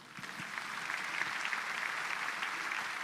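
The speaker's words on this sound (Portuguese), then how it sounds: "Aplauda mais forte" A church congregation claps steadily, a faint but dense, continuous patter of many hands that builds slightly early on, with little speech over it.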